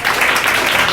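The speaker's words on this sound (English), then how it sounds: "He deserves a round of applause" At an LGBTQ community forum, an audience bursts into close, loud, continuous applause for Richard Ullman, a task force leader, with no pause in the clapping.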